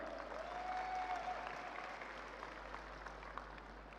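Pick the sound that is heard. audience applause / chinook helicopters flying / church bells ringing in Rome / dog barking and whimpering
audience applause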